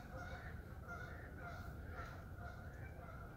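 Geese honk in a repeating series at a moderate distance near flooded ground, the calls coming roughly every half second over a steady outdoor rumble.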